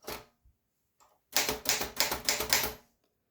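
Keys of a manual typewriter strike in a quick burst of about eight sharp clacks, loud and close, after a few scattered isolated taps and short pauses.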